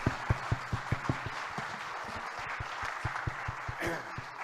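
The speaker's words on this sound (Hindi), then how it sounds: "तो एक बार जोरदार तालियां जितने भी लोग बैठे हैं फॉर टाइकॉन चंडीगढ़" An audience at a TiECon Chandigarh entrepreneurship event claps in a rhythmic, thumping beat, steady and moderately loud, with talking heard alongside the claps.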